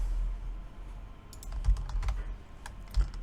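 Typing on a computer keyboard in a quiet room, a short run of light, irregular clicking keystrokes, close and fairly soft, with a few slightly louder taps.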